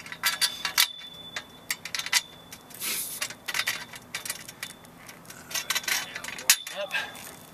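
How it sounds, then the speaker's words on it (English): Metal bolt fitted into a bracket for a tilt-over antenna mast hidden by a chimney, heard as scattered small clinks, ticks and scrapes of metal on metal, close and fairly quiet, in irregular bursts without talk. "Put the bolt in right here."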